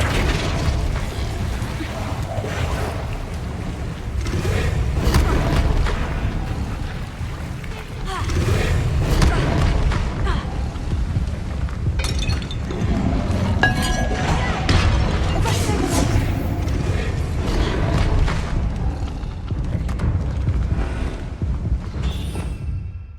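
Spell blasts and explosions in the Hogwarts Legacy video game come as repeated booming bursts and crashes over a rumbling battle background, with spoken spell incantations in between.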